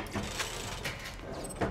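Slot machine reels spinning in the video game Borderlands 2, a steady whirring mechanical rattle with a few brief clicks, continuous and fairly close throughout the short clip.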